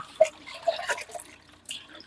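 Water splashing and dripping as river fish are washed clean by hand in a village kitchen, a few light splashes and drips, close and soft, with no voices.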